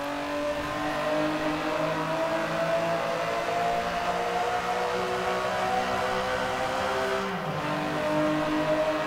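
In Forza Horizon 4, a twin-turbo car engine drones loud and close at sustained revs, its pitch nearly level for several seconds before dipping briefly and climbing again near the end.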